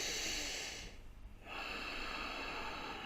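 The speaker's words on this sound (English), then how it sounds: "Take a big breath in so you can relate." One person takes a big breath in, a close, airy inhalation that swells and then briefly drops away before steady breathing noise resumes.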